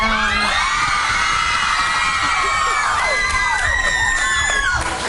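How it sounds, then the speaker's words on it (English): A crowd of fans at a live TV talk show cheers and screams, many high-pitched shrieks and whoops layered over one another, loud and sustained and close by. "We thought they were cheering for us, but then we realized they weren't"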